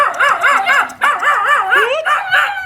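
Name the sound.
dog barking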